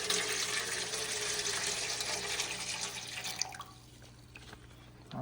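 Water pours steadily into a saltwater aquarium as a new fish is added, a close continuous splashing and trickling that fades after about three and a half seconds, with no talking.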